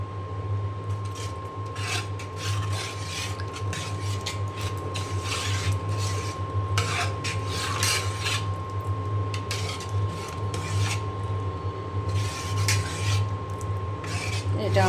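Food being mixed with raw mustard oil in a home kitchen, a steady rasping, rubbing scrape that repeats close by over a constant low hum and a faint high tone.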